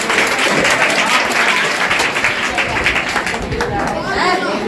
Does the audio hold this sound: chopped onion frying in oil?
no